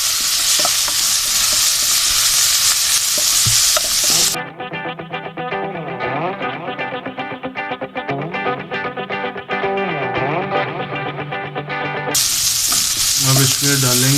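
Boiled, sliced chicken hits a pan for chow mein with a loud, close, crackling sizzle, and the frying returns at the end after a long stretch of music.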